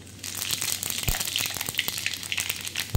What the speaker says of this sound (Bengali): তো তেল দিয়ে দিচ্ছি, ওর মধ্যে শুকনো লঙ্কা দিয়ে দিলাম আর দিয়ে দিচ্ছি 5 ফোড়ন।